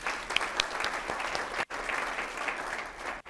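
Audience applause fills a city State of the City presentation with steady, dense clapping, broken by a brief silent gap midway before the clapping resumes at the same level.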